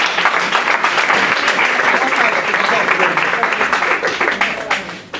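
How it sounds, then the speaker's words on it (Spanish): An audience at the 2014 Asturian film festival awards ceremony claps loudly for a best short film prize. The applause is thick and sustained, then tapers into scattered claps. "aplauso."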